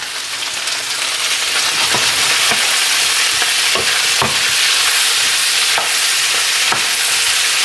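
Peppers and squash cook with bacon and onions in a loud, dense frying sizzle, with utensil stirs and scrapes in the pan at irregular intervals.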